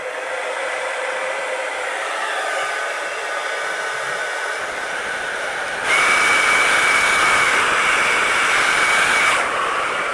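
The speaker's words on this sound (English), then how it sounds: "Whenever I use a blow dryer on my hair, it's cool to medium heat" A hair dryer drying hair blows with a continuous loud whooshing hum, briefly jumping to a higher, harsher setting partway through before settling back.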